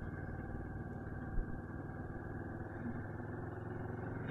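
A Moto Morini X-Cape 650 motorcycle engine hums steadily at a low level while riding in second gear on a road, a continuous even drone with no talk over it.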